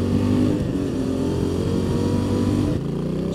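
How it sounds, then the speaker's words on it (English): A 450MT motorcycle exhaust revs loudly and steadily up close, with a deep throaty rumble that drops slightly near the end. "Just listen to that sweet exhaust."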